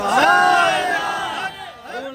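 A crowd chants slogans loudly in unison, many voices rising together in a sustained shout and then dipping briefly before another call.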